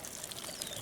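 Water poured over a metal surface to rinse away paint remover residue, a steady soft splashing wash with no talk.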